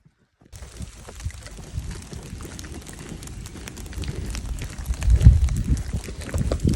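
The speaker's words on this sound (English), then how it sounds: "I love the sound of the water hitting the ground. It's all coming off the trees." Rainwater drips off trees onto the forest floor along the Georgia Appalachian Trail, an irregular patter of close, crackling taps that grows louder and busier toward the end, with no talk.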